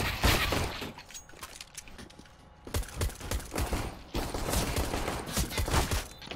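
Rapid gunfire in the video game CS:GO, dense crackling bursts and scattered single shots filling the whole stretch, loud and close with clattering effects.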